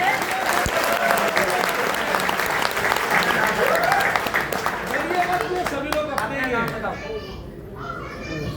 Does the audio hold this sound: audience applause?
yes